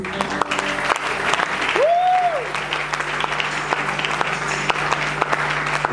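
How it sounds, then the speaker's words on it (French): A church congregation applauds and acclaims Jesus, sustained loud clapping rolling on steadily, with a brief rising-and-falling whistle cutting through near the middle. "ne vous arrêtez pas d'acclamer Jésus"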